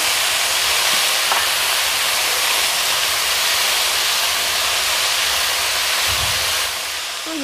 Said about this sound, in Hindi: तो ये देखिए हमारे पालक को फ्राई होते हुए 1 मिनट हो गया है